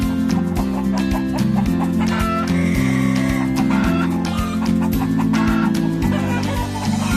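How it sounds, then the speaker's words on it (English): Hen clucking repeatedly over steady background music, the clucks mixed in and fairly prominent throughout. "you must get it from Pen the hen"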